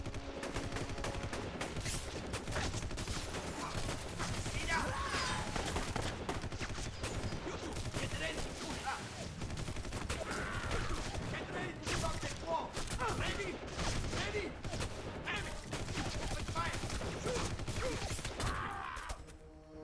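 Dense, continuous video game gunfire, with sustained shooting and crackling impacts that never let up, mixed with voices and background noise at a moderate, distant-sounding level.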